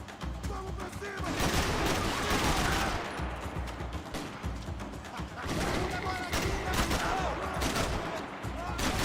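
Gunfire in the Max Payne 3 video game comes as dense bursts of shots and heavy fusillades, loud and sustained, with brief lulls between the volleys.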